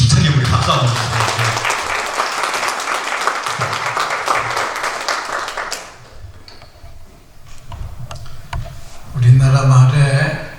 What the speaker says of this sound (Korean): 힘차게 우리 박수 한번 주세요.